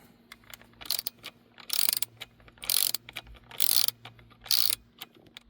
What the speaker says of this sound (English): you will need a 4mm socket and a ratchet to remove these two guys.